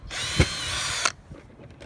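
Power drill boring through one end of a metal headband strip for steampunk goggles, a steady high whine lasting about a second before cutting off, followed by faint handling noise.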